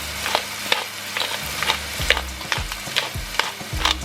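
Carrots and onions fry in butter in a pan, with a steady sizzle broken by repeated scraping strokes of a spoon stirring them, close and clear with no talk.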